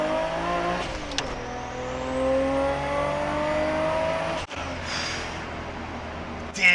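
A modified 1995 Nissan Skyline R33 GT-R six-cylinder engine is driven at full throttle, its loud howl climbing steadily in pitch, then breaking sharply at a gearshift before building again. A brief sharp burst sounds near the end.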